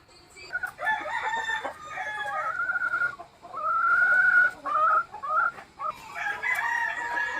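A gray gold hen of Hatch bloodline clucks and cackles repeatedly at close range in a small backyard coop, loud drawn-out calls alternating with short bursts, with no talking.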